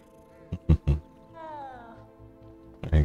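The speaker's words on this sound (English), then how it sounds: "Not a pretty cat. It's like Siamese cat, isn't it?" A Siamese-like cat in the Hogwarts Legacy video game gives a short, mid-volume meow with a falling pitch, set against steady game ambience. Several louder low thumps or voices land before and after it.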